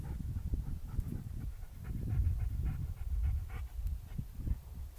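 Dog panting close by in quick, rhythmic breaths that continue steadily throughout, with no voices over it.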